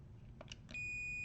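A few faint clicks and taps, then a multimeter's steady, continuous continuity beep starts and holds until the end, testing a motor starter with overload.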